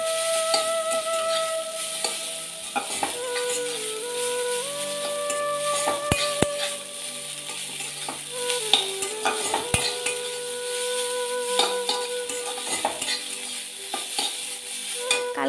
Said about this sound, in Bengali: চাউমিনটা করা ছিল তো কড়াইয়ে বসিয়ে দিয়েছি